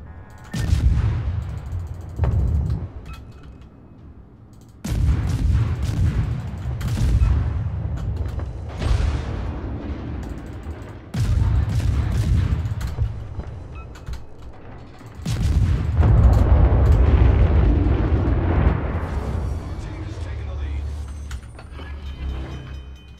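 Naval guns of the Shenyang firing in World of Warships, with 51Mk7 guns, heavy booming salvos in repeated bursts a few seconds apart, each followed by rumbling blasts and mechanical creaks, loud and close.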